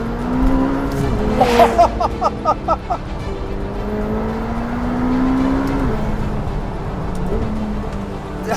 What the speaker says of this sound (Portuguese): Chegamos a uma curva, travamos a fundo, temos travões carbocerâmicos, maxilas gigantes.